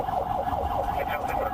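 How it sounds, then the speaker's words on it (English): A police car siren wails, rising and falling steadily in a fast, repeating cycle, heard at moderate distance with no voices. "lights flashing, sirens blaring"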